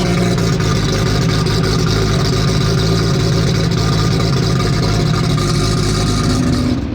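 A Toyota Supra engine idles cold with a loud, rough, continuous rumble that stays close and steady throughout, with no talking over it.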